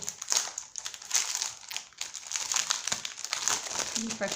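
Crinkly paper rustles and crackles continuously up close as scrapbooking paper is handled and folded, with a voice speaking softly underneath.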